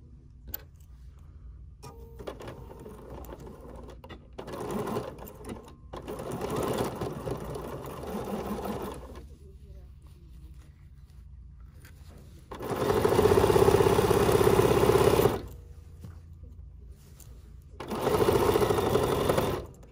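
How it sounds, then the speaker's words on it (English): A sewing machine stitches up the sides of a fabric basket in several bursts, the motor humming loud and close with quiet pauses between runs. "we're gonna sew up the sides"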